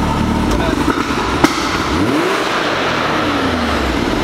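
A Can-Am X3 side-by-side engine fitted with DynoJet launch control revs up loud and near, the pitch sweeping upward and then easing off over a steady engine roar.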